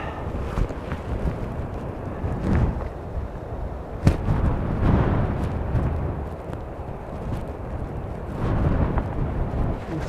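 Strong wind roars continuously across the microphone on a coastal clifftop path between Padstow and St Ives, a steady low rumble with surging gusts and no talk.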